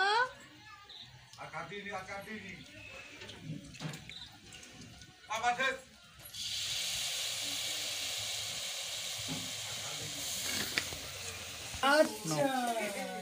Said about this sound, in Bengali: নারকেল ছাই মেরে নিচ্ছি, সুন্দর করে লাল লাল করে ভেজে নিচ্ছি